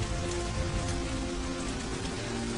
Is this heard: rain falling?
yes